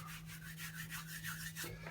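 Hands rub flour, salt and soda together in a bowl for brown bread, making a soft, steady, rhythmic rasping close by with no talking.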